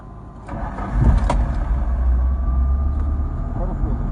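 A car's engine rumbles up as it pulls away from a roadside police stop, a low steady drone with voices faintly underneath.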